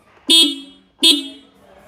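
A scooter horn gives two short, loud honks about a second apart, close by, with quiet in between.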